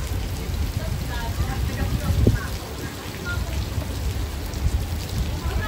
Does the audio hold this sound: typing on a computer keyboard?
no